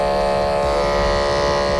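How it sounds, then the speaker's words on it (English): Andis Supra ZR hair clippers with a 5/0 blade buzz in a steady, loud, close electric drone that holds an even pitch throughout. "These are the Andes Supra ZR clippers with the 5/0 blade."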